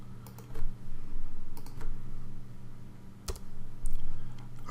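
Typing on a computer keyboard while writing code, short uneven bursts of close key clicks over a steady low hum, with pauses between flurries.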